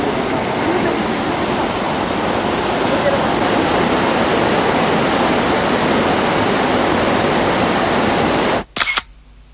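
Kegon Falls waterfall at Nikko, Japan, pours in a steady, loud, dense rushing roar that holds unbroken for most of the stretch before cutting off abruptly near the end, followed by a couple of brief thumps.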